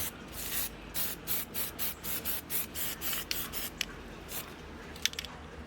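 Short bursts of hissing spray repeat in a steady rhythm, close and fairly quiet, with a few small clicks between them.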